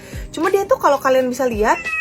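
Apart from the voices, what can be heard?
cat meowing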